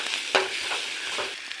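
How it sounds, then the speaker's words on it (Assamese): Onions and green chillies frying in oil with turmeric and salt, a continuous close sizzle with intermittent scraping stirs of a spatula against the pan, no voices. "আটাইখিনি নিমখ হালধি মিক্স কৰি পিঁয়াজ জলকীয়া এনেকৈ ভাজি লৈছোঁ"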